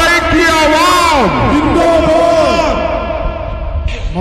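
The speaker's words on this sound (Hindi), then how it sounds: "जोरदार नारे तकबीर के साथ इस्तकबाल करते हैं।" A crowd chants the Naara-e-Takbeer slogan in a loud, close call-and-response, many voices rising and falling together in drawn-out shouts that fade toward the end.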